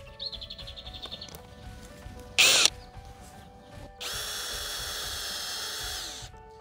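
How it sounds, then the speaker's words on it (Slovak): NAREX ASP 600-2B drill in screwdriver mode driving small screws: a brief high whine, a sharp short burst, then a longer steady motor whir, all close with quiet gaps between. "Pre odskúšanie mechanickej spojky som si pripravil malé skrutky, režim skrutkovania a prvé nastavenie sily"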